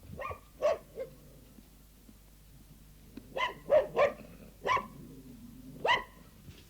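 Two pet dogs, a spaniel and a terrier, bark in short separate bursts, a single yap first and then a quicker run of several barks, close by against a quiet background.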